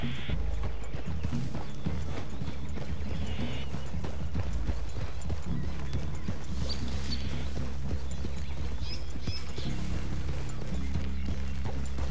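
Horses clip-clop steadily through a wooded clearing in Red Dead Redemption 2, a continuous run of hoofbeats with an occasional snort and whinny, close and fairly loud over rumbling ambience.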